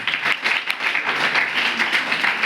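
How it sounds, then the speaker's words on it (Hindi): A village gathering claps for the village head, a lively, sustained round of many hands beating with a slightly uneven pulse throughout. "प्रधान जी के लिए तालियां बजाते हुए"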